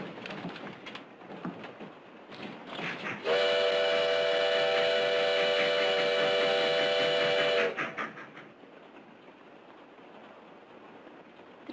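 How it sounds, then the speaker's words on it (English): A train's steam whistle blows loud and steady for about four seconds, then cuts off. A faint rumble and scattered noises run before and after it. "The train goes so fast."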